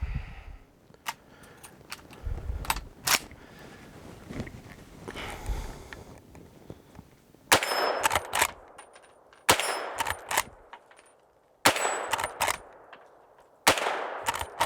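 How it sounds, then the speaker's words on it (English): A Henry Big Boy lever-action rifle fires .38 Special rounds at steel targets outdoors. Four sharp, loud reports ring out at spaced intervals, with metallic clanks between shots. "we're going to be shooting at the steel targets down here"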